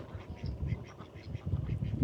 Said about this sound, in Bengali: দেখো কত হাঁস